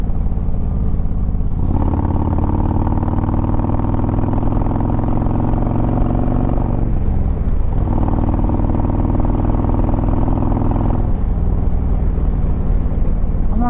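Harley-Davidson motorcycle engine in sport mode, a loud, steady close-up drone under way with gear changes around the second and eleventh seconds, the pitch dipping and climbing again as the bike pulls through the gears.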